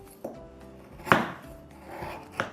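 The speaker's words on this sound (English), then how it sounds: "First, I'm going to cut it or slice it into smaller pieces" A knife cuts through a block of gula melaka palm sugar, giving three separate sharp chopping knocks on a board, close and clear, with quiet gaps between them.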